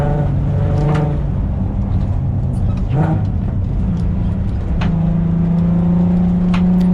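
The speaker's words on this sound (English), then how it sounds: "a racing car, on another stage that just happened to share our road" A rally racing car at the 2021 SNO*DRIFT passes on a shared snowy stage road, its engine rising and growling near the end, heard over the hum of the crew's own car while people talk.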